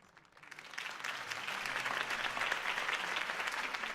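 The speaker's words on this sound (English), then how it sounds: "could have heard that applause" In Batman: The Telltale Series, applause from a crowd at a political campaign speech builds within the first second and then holds steady and loud, dense clapping continuing to the end.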